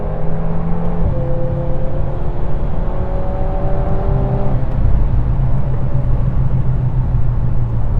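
A VW Golf 8 R laps a wet race track, its engine droning loudly and steadily from inside the car, pitch stepping down briefly at a gear change before holding a constant high whir and road roar with no voices.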